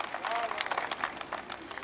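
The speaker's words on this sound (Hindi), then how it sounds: "इस बात पर भी एक बार जोरदार तालियां बजनी चाहिए।" An audience at a Hindi poetry gathering claps in a brief burst of applause. The clapping is moderate and close, and voices sound over it.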